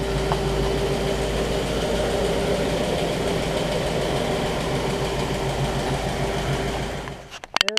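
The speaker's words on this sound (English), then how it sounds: "let the engine warm up here for about 15 or 20 minutes or so, and might boost it up on the fast idle cam" A 1960 Pontiac barn-find engine idles steadily while warming up, a continuous low rumble with an even mechanical hum, close and constant before cutting off abruptly near the end.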